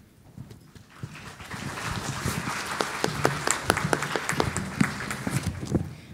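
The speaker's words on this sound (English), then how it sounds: "Please join me again in giving them a warm round of applause as they now take the stage." Warm applause from an audience welcoming speakers onto a stage at a live event, building from a quiet start into steady clapping with crisp individual claps standing out, continuing throughout.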